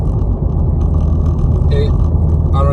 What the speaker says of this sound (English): I mean, you can hear the exhaust, but there's no drone at all.